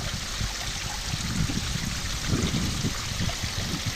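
Water pours steadily over a koi pond filter at roughly 8,000 to 9,000 litres an hour, a continuous close rushing and trickling flow with low gurgles underneath and no talk.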